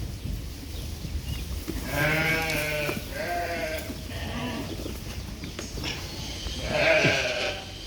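Sheep on a farm in Israel bleat several times in a row, loud and close, with wavering cries and a last call near the end.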